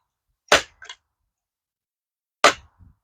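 A Crosman 362 air rifle fires twice at pinecones in a backyard, each shot a sharp close crack followed by a faint impact, about two seconds apart with silence between.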